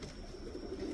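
Show pigeons coo softly inside a loft, a low murmuring call heard faintly against quiet background noise.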